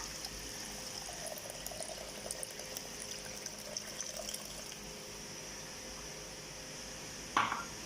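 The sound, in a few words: pouring tamarind and salt water into the fish curry pan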